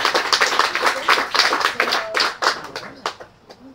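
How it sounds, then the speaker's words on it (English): Clapping from a small audience at a storytelling night in a taproom, a few dozen hands in uneven bursts that thin out and fade toward the end. "Please give a big round of applause for Mike"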